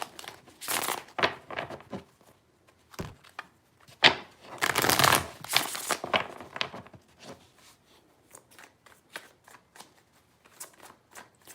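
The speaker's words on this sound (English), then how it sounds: "3 shuffles." Tarot cards are shuffled in quick riffling bursts, a few loud rustling passes up close followed by softer, scattered flicks and taps, with no talking.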